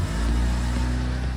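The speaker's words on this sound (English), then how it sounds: "hearing an engine come back to life after a restoration like this, especially when it's a 4G63" The restored Mitsubishi EVO's 4G63 engine runs after its first startup, giving a steady, close, loud idle with a deep low rumble and no voices.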